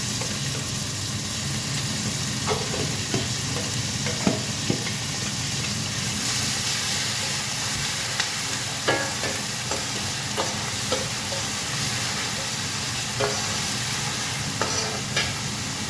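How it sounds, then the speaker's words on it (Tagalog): Onions fry in a pan at the start of red rice, a constant loud sizzle running throughout while a utensil stirs them with scattered light scrapes and taps, close and without talk. "Paglagay tayo ng sibuyas"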